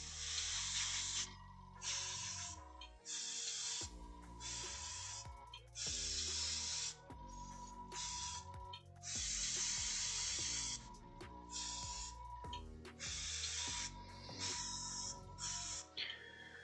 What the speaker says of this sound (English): Airbrushing is just cheating, really.